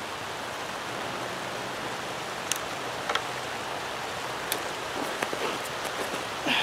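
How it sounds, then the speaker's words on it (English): Steady light rain falls outdoors while a tipi is being set up, a dense even hiss with scattered sharper drop ticks and small knocks, no talking. "It just started to rain."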